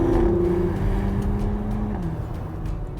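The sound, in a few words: 2020 Porsche Macan GTS V6 twin turbo engine driving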